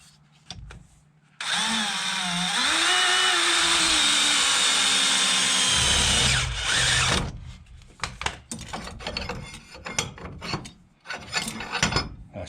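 A power drill drives big screws into the wood of a tractor shed: a loud, close whine that rises in pitch and holds for several seconds, followed by a run of scraping, knocking and handling noises.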